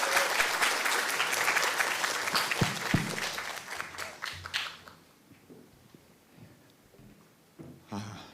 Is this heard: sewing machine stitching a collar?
no